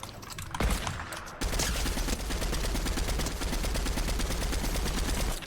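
Rapid, sustained gunfire from the Fortnite video game, dense repeated shots running almost continuously at close range after a short gap near the start.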